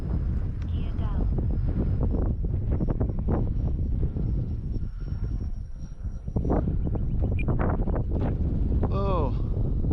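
Heavy wind buffeting during an aircraft landing with flaps and gear down, a steady loud roar and rumble that dips briefly midway, with a faint voice and a short tonal chirp near the end.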